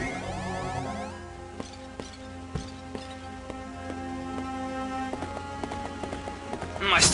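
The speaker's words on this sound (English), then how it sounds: "I still love the fucking Paladin footstep noise when they make it when they're indoors." Paladin horse hoofbeats clip-clopping indoors in the video game Fire Emblem: Shadow Dragon, a steady run of light hoof taps under looping game music, with a voice talking over part of it.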